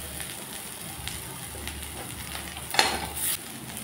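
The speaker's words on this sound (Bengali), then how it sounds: "পেঁয়াজগুলোকে লালচে করে ভেজে নিলাম।" Onions frying in oil in a pan until reddish-brown, heard as a quiet, steady sizzle with soft stirring and one brief clatter of a utensil partway through.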